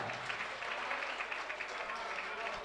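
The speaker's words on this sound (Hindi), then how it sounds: "तालियां बजाइएगा।" Crowd at a Jain temple foundation-stone ceremony in Indore claps together, a faint, distant, even patter of many hands sustained from start to finish, with speech mixed in.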